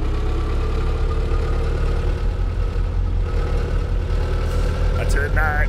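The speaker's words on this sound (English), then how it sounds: "let's try to get that tractor freed." A tractor engine idles in the video game My Summer Car, a steady low rumble with a constant hum running throughout. Someone talks over it, and near the end a brief higher whine rises.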